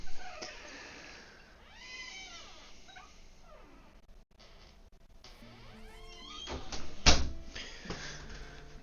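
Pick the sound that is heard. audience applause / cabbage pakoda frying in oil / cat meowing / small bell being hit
cat meowing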